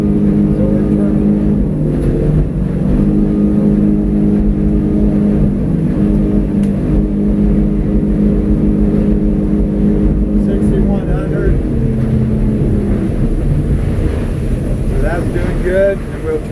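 Outboard motor on a 2020 Edge 24 boat running steadily while turning, a loud close drone with wind buffeting and someone talking over it.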